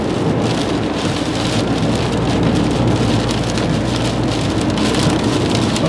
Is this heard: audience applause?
no